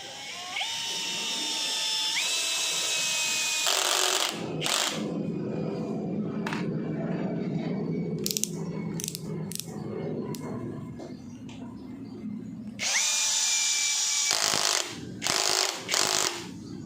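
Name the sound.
NRT Pro DC743 cordless impact drill driving 10 cm screw into mahogany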